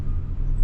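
Bus passing on a street in La Paz, a brief, close, low engine rumble with road noise holding steady for a moment.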